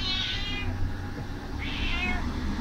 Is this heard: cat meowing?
yes